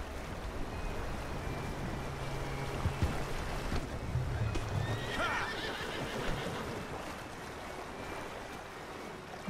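Horses neigh and whinny in the video game Red Dead Redemption 2 against a steady outdoor background, with a brief higher whinny standing out midway.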